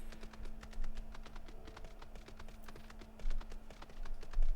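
Rapid, light clicking taps form a steady patter over a low hum and faint game ambience while signs are entered in Final Fantasy XIV: Heavensward, with no talk.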